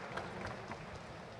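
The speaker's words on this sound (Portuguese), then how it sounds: "Salva de palmas, galera, nosso amigo." Audience applause at Campus Party Brasil 7's startup pitch competition, a dense, steady wash of many hands clapping that fills the whole moment without pause.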